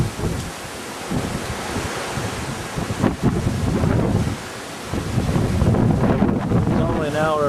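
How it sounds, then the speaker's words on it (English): Strong wind from Hurricane Dolly roars outdoors in loud, gusting surges that buffet the microphone, rising and falling across the stretch, with a voice speaking briefly beneath it. "Probably still 25-mile-an-hour winds."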